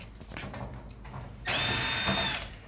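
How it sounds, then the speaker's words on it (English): A power drill whirs steadily as it backs screws out of the rear panel of an Electrolux dryer, a loud sustained burst starting midway after quieter handling noise, with no talking. "take off a bunch of screws here on the back to pull off this back panel"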